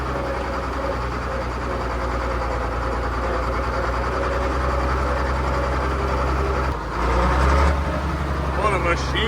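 An International 766 tractor with over 10,000 hours runs steadily up close, a dense low engine drone holding throughout with a short dip near the end, while a voice talks over it.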